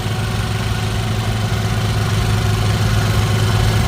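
A 4020 diesel tractor engine with front wheel assist idles steadily with a low, throbbing rumble and constant mechanical vibration, close by, with no voices.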